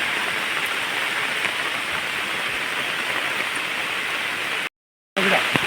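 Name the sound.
rain falling on plastic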